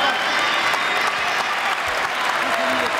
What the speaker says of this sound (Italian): Applausi per quello che ha fatto questo ragazzo!